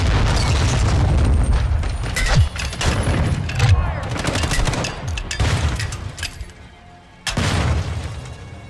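Shotgun blasts in Call of Duty Modern Warfare, heavy booming shots amid other gunfire and explosions, with a player talking through the firing.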